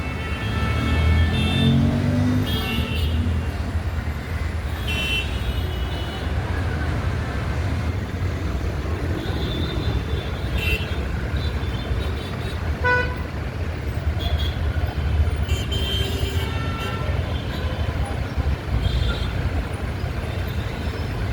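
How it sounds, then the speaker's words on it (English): Night road traffic in Talawade Gaon, Pune, with small commercial, medium and heavy vehicles passing: a continuous rumble of engines and tyres, punctuated by frequent short horn toots near and far throughout. "with various types of vehicles passing through these roads, such as small commercial vehicles"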